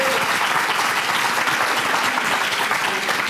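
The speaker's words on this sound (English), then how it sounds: "Let's give a round of applause for all of our inductees." Sustained, steady applause from a large audience at the Winston-Salem Arts, Culture, and Entertainment Memorial Walk of Fame induction ceremony, dense and loud throughout, honoring the inductees.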